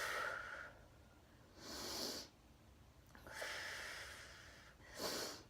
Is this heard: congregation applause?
no